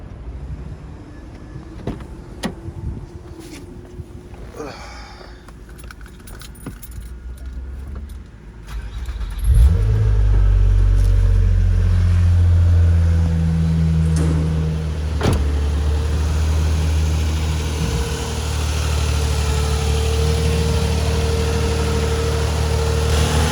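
A car engine cranks and starts after an oil cooler install, then settles into a steady, loud idle that runs on for a long stretch, preceded by faint clicks and keys jangling.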